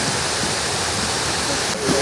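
Water rushes steadily through a river dam and fishway at a fisheries station, a loud, unbroken roar of churning flow filling the scene close by, with a voice briefly audible beneath it near the end.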